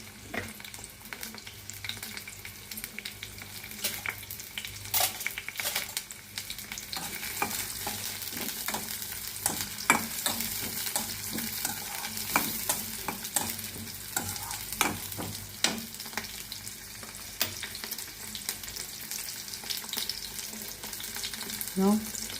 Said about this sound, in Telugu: కొంచెం ఉల్లిపాయలు వేగాలి